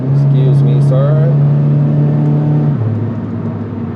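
A Subaru BRZ cruises with a steady, droning engine note heard from inside the car, the pitch dropping as it shifts. A voice talks briefly over it.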